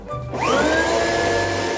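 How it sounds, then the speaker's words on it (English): A Hoover vacuum cleaner starts up with a rising motor whine and then runs steadily, loud and close, with no voices over it. "this lot are about to give the Hoover a quick spin round"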